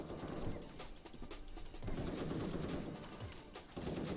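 Rapid gunfire from a Krunker tournament match rattles in dense, fast bursts, loud and continuous, with shots layered over a busy game soundscape.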